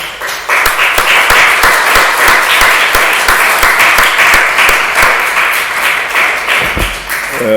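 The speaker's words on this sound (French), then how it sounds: "On va vous applaudir à nouveau" Sustained, loud audience applause fills a lecture hall after a talk by a colonel, dense steady clapping from many hands carrying on for several seconds before tapering slightly at the end.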